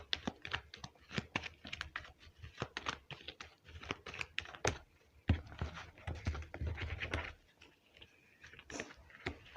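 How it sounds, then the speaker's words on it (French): Small oracle cards drawn and handled for a love reading, a steady stream of soft close-up shuffling, tapping and scraping sounds with continuous rustle throughout. "on va tirer les 3 petites cartes du petit Normand pour la fin de ce tirage"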